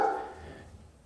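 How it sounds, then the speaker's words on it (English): A dog gives a single short bark, fairly close and loud, fading quickly into quiet room tone. "What are you barking at?"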